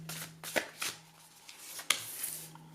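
Oracle cards are shuffled by hand for a tarot reading, soft close riffling and slapping bursts separated by brief pauses, fairly quiet with a faint background hum and no talking.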